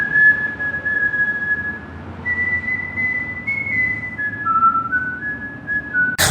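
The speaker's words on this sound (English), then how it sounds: "He's doing that whistle he did when he robbed that other guy." A lone person whistles a slow, wandering melody in a scene from the TV crime drama The Wire, clear sustained notes over a low background rumble.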